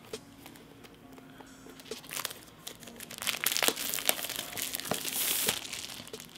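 Plastic packaging crinkling and rustling as it is pulled out of a brand-new box holding a Sofabaton U1 remote, a close series of crackles that grow busier and louder toward the end, with no voices.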